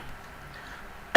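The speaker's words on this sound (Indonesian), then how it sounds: "Ada batuk, maaf." A single short, sharp cough bursts out at the very end, after a stretch of near-silence in a physics lesson about speed and velocity.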